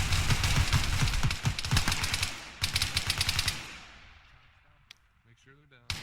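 Rapid automatic gunfire in a video game, dense bursts of loud shots for the first few seconds with a brief gap, then tapering into quieter scattered shots as voices speak over the mix.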